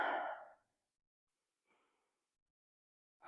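Deep yoga breathing while holding a hips-raised pose: a long audible exhale, a faint short breath, then another breath beginning, close and soft with silence between.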